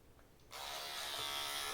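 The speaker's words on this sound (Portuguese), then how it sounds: "Com o pente, testando aqui a T9 Vintage." A T9 Vintage electric hair clipper fitted with a comb attachment switches on after a brief quiet moment, then runs with a steady, close, high-pitched buzz.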